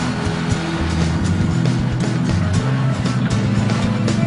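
A Nissan Rogue all-wheel drive SUV revs hard as its wheels spin on a steep dusty hill, a loud, steady engine drone with gritty crunching and no talking.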